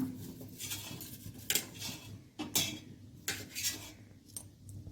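A metal spoon scoops fried paneer out of a pressure cooker: several sharp clinks and scrapes against the pot, spaced a second or so apart, close and fairly quiet with soft rustling between.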